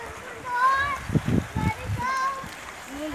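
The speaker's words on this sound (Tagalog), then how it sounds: "Flowing ang water." Water flows and splashes steadily at a bathing spot, a soft continuous wash beneath people chatting nearby.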